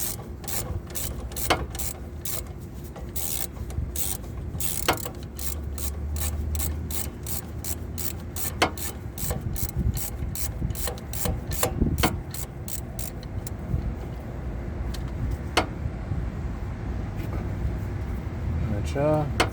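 A ratchet clicks in repeated bursts while tightening the top bolt of a front brake caliper on a 2004 Dodge Dakota 4.7 during a pad and rotor job, close and fairly loud with scraping and a voice talking over parts of it.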